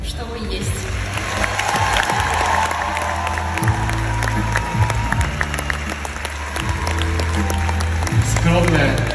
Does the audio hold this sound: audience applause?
yes